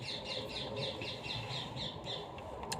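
A bird squawks repeatedly in a steady run of about eight harsh calls, moderately close over a busy, noisy background.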